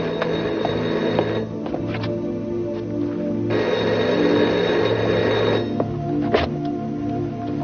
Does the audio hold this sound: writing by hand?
no